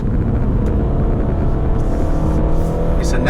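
Steady engine rumble from a 2019 Hyundai Santa Fe with a naturally aspirated engine accelerating, heard loud and continuous from inside the cabin with no clear pitch rise.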